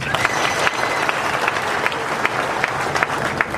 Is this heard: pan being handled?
no